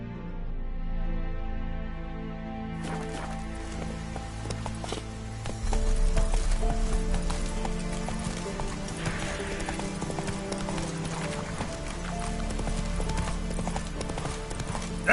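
Hooves of Roach, the horse in The Witcher 3 on PS5, clip-clopping at a quick pace under game music, with a brief whinny-like sound and the gait growing louder partway through.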